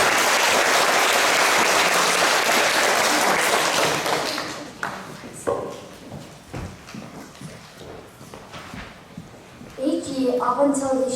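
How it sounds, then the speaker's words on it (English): Loud, full applause at a school presentation day assembly for award recipient Sophie, lasting about four seconds before thinning to scattered claps, with children's voices chattering near the end. "Can you give Sophie a huge round of applause?"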